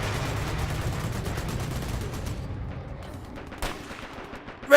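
Gunfire in a competitive online shooter match, a dense rattle of rapid shots that cuts off abruptly, followed by a sharp single report and another punchy shot at the end.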